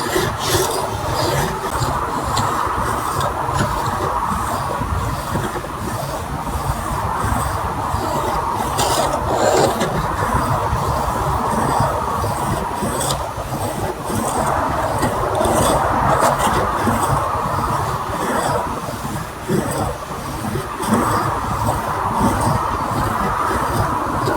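A chisel is rubbed back and forth on a fine, old oil stone, a steady loud rasping scrape with rhythmic strokes repeating throughout, close up and without talk.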